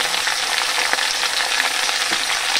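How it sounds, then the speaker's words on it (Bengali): Onion and tomato frying with potatoes in a hot pan, a loud, dense, continuous sizzle close to the listener with faint stirring ticks, with no speech. "এবার আমি ভেজে নেব।"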